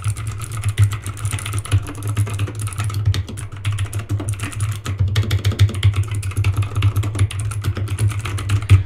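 Fast, clattering keystrokes on a mechanical keyboard with clicky blue switches, steady and close throughout, over a constant low hum.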